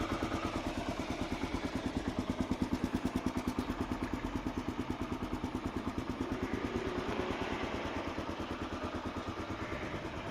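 A KLR 650 motorcycle with a lithium-ion battery idles close by, its single-cylinder engine thumping in a steady, even rhythm for the whole stretch, loud and unbroken with no voices.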